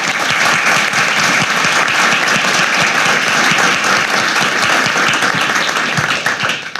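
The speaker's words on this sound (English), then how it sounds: "We've got first, a round of applause for these guys." Loud, dense audience applause for speakers after a talk, sustained evenly throughout and close to the microphone, thinning only at the very end.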